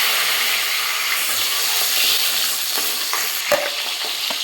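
Small sambar onions fry in hot oil in a pan, giving a constant bright sizzle with occasional scraping stirs and a sharp clink near the end, close and with no talking.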